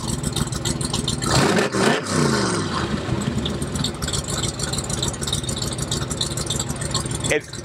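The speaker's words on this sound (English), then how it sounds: "One of the beautiful things about this car is the way it sounds, even when it's just idling." A custom car sits at a loud, rough, lumpy idle, close by and steady, with one brief swell in revs near the start before it settles back.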